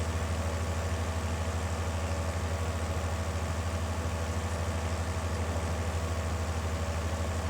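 Tractor engine idling steadily in Farming Simulator 22, a constant low droning hum with no voices.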